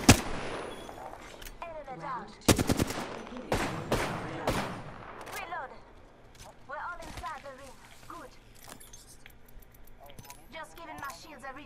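Rapid gunfire bursts and single shots in the Apex Legends video game, sharp and loud with repeated volleys, mixed with clinking and footstep-like sounds, with people talking over it.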